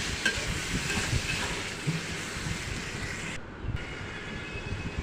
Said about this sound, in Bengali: এখানে আমি দিয়ে দিব টমেটো পেস্ট।